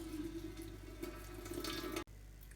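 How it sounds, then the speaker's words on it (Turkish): Boiling water pours steadily over loose tea leaves to rinse them, a continuous close splashing stream that cuts off abruptly near the end. "Şimdi bu kaynayan suyla kabaran çayımızı tekrardan yıkayıp süzeceğiz"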